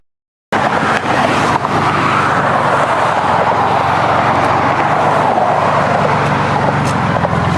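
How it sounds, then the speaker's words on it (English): A car left without its fallen-off muffler roars loudly and steadily at close range, a raw, unmuffled exhaust drone that starts abruptly and holds for several seconds with slight surges. "My muffler fell off."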